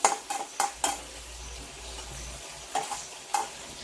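Dal fries in oil while being stirred for chutney: a low steady sizzle punctuated by several sharp metallic spoon scrapes and clinks against the pan, close and without speech.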